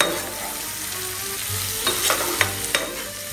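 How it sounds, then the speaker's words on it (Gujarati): A pan of pointed gourd curry seasoned with salt is stirred, giving a steady close sizzle of frying with scraping strokes from the spoon toward the end, no voices. "સ્વાદ અનુસાર મીઠું એડ કરી દઈશું સારી રીતે મિક્સ કરી દઈશું"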